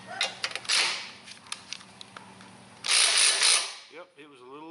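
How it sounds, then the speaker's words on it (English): A screw is tightened on a lawn mower's intake pipe with a hand tool, giving short creaking, ratcheting clicks in bursts up close. A voice briefly speaks at the end. "make sure you tighten that screw right there"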